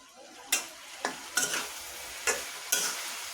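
Chicken curry being stirred and fried in a pan with browned onion paste, several sharp scraping strokes spaced irregularly over a soft background sizzle, close and fairly loud.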